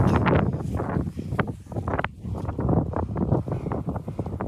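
Strong gusty wind in England buffets the microphone in loud, rumbling bursts, continuous throughout with brief lulls.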